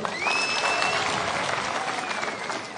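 Crowd applause at an outdoor political rally in Shinyalu, Kenya, a dense sustained burst of clapping with a faint whistle cutting through near the start.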